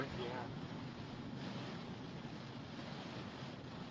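Strong 60–70 mph storm winds during a nighttime chase in Hudsonville, Michigan, a steady loud roaring rush buffeting the microphone throughout.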